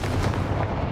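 A Confringo blasting spell goes off in Hogwarts Legacy as a loud, dense burst of booming explosive noise that fills the whole second without a break.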